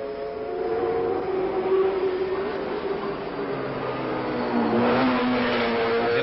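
Formula 1 race cars of Lotus, BRM, Ferrari and Cooper at the 1963 Monaco Grand Prix, a steady loud engine drone with shifting pitch as cars rev and pass, heard through an old broadcast recording.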